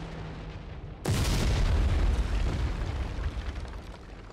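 Bombs from a ground-attack run detonate in the IL-2 Great Battles flight game: after a quiet engine drone, a sudden loud, deep blast erupts and trails into a long rumbling roar that slowly fades.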